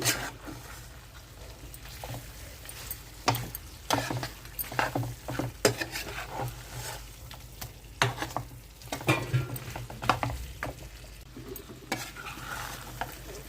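Restaurant-style chicken fry sizzles in a pan while a utensil stirs and scrapes it in irregular bursts, close and fairly quiet, with no talking.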